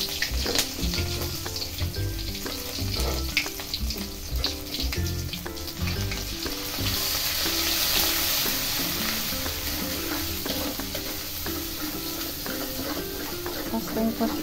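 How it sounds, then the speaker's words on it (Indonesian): Steady crackling sizzle of ground spice paste for chicken opor frying in hot oil, continuous and close, with occasional scraping and stirring sounds. "saya mau menggoreng bumbu yang tadi sudah saya haluskan"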